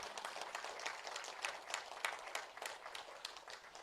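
Scattered, soft applause rises from a seated group at a Marathi meditation gathering, a faint patter of hands clapping steadily with a few sharper claps standing out, heard from some distance.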